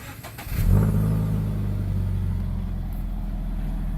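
A Scion FR-S fitted with an SBD front pipe and over pipe fires up from a cold start and settles into a steady, deep idle, loud and close-miked after a brief cranking burst.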